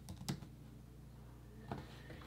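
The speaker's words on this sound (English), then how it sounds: "I'm gonna just type in retro." Two short bursts of typing on a computer keyboard, a quick cluster of key clicks followed by a second brief tap after a pause, faint and close in a quiet room.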